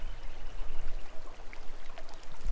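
Low, steady rush of river water at the old Victoria River crossing in Western Australia, flowing continuously and fairly faint with a few small splashy trickles on top.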